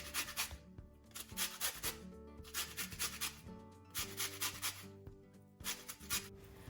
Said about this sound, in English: going to add the zest of 1 lemon into the same bowl